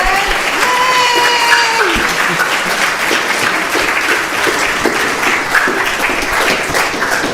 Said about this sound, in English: Big round of applause for all the children